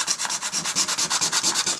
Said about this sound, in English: I'm going to continue doing some sanding and some smoothing.